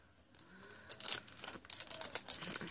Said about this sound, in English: Sorry about the crinkling, guys.